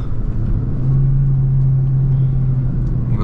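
A Peugeot 208 Allure with a 1.6 engine and automatic gearbox accelerates, a steady, close engine drone with a rising tone that holds for a few seconds, heard alone without talk.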